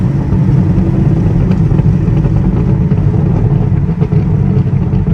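A Chevrolet Camaro LT1 V8 with its fuel management disabled rumbles and burbles through the exhaust after lifting off the gas in third gear, a loud, steady, close low-frequency drone.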